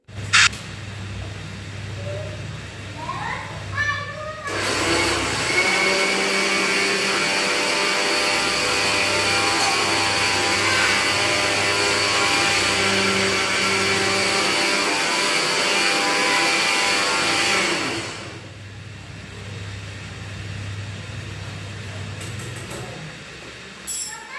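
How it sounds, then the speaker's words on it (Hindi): A kitchen mixer grinder starts abruptly, runs with a loud, steady whirring whine for about thirteen seconds, then cuts off, leaving quieter room noise before and after. "मैंने यहाँ नीचे ग्राइंडर चला दिया"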